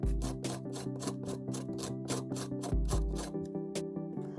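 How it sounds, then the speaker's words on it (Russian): Carrots being grated on a special grater for Korean-style carrots: a rapid, regular scraping rhythm of close, crisp strokes over a steady low background hum, with no talking. "Итак, морковь трем на специальной терке."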